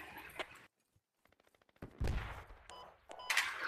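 Gunfire rings out in the military shooter game Squad, a few scattered shots early, then a quick burst of faint, rapid distant shots, followed by louder, heavier volleys at the end.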